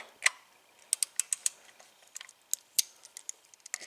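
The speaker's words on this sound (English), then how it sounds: "Here I'm showing you a ratchet, socket ratchet." A socket ratchet clicking in quick, irregular bursts of sharp, light ticks, close and fairly quiet, with no talking.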